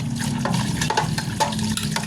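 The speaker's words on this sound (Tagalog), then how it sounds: "Hugasan ko muna po yung mga pinggan din eh" Dishes being washed under running water in a home kitchen, with steady splashing and clinking of plates close by, continuous throughout.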